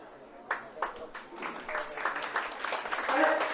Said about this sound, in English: yet another round of applause for an injured player